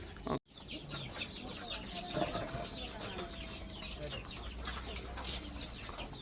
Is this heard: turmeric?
no